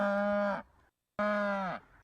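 Cow moo samples used in a music beat: two long, loud, tonal moos, each about half a second, separated by a short silence, with a brief click at the end.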